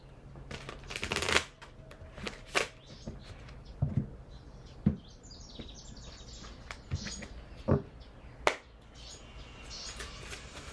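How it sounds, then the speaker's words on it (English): Tarot cards are shuffled in a series of soft, close riffles and slaps, coming in short separate bursts with quiet pauses between them. "Sometimes the shuffling itself can provide insights."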